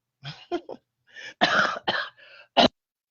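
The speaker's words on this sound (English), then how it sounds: "I'm getting ready to cough right now" A run of several harsh coughs and throat-clearing bursts from a person with bronchitis, close and fairly loud, separated by brief silences.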